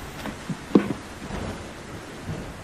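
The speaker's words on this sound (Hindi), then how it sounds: "इस वर्षावन में तो बहुत ज्यादा बारिश होती है।" Heavy rain hisses steadily through a cartoon rainforest, with a low rumble of thunder and a single nearer crack early on, all without voices.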